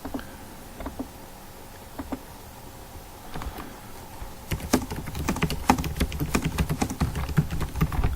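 Keys clack on a computer keyboard while a report narrative is typed, sparse taps at first building into a quick, steady patter, close and fairly quiet.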